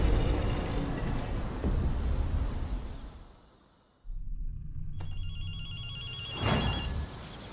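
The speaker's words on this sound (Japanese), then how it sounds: "電話の音が聞こえないか" A telephone rings inside the Ghostwire: Tokyo video game, its bright electronic trill breaking in after a dense ambient rumble fades to near silence and then resumes, ringing in short repeated bursts mid-distance.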